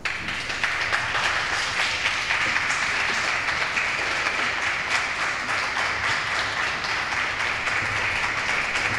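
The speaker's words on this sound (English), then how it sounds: "would you please give a very warm round of applause" A live audience at a launch event gives a sustained, even round of applause, with many hands clapping densely and loudly throughout.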